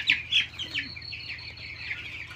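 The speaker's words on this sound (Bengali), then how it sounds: "আমার এই জায়গায় 600-র মতো মুরগি আছে।" Young 15-day-old broiler chickens in a poultry shed housing about 600 birds give a steady, overlapping chorus of high peeping chirps, nearby and moderately loud, with no talking.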